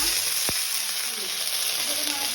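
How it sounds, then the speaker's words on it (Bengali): Peanuts frying in about two spoonfuls of white oil in a wok give a steady, close hiss that runs unbroken, with one short sharp knock near the start. "তারপর বেশ কিছুটা বাদাম, এটাকে ভেজে মা তুলে নেবে।"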